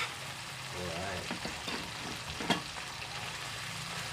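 Buro, a fermented fish, frying with tomatoes and ginger in a pan, a soft steady sizzle with stirring scrapes and one sharp clink midway, faint voice fragments in the background.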